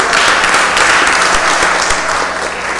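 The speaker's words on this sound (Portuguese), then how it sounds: "uma salva de palmas para o Pavilhão Nacional" Loud, dense applause from those standing in a municipal council chamber as an ordinary session closes in honor of the national flag, sustained clapping from many hands throughout.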